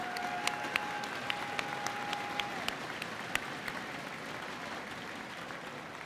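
Audience at a college fall convocation applauds the award finalists, a steady wash of clapping that stays moderately loud throughout, with a faint tone running beneath it early on.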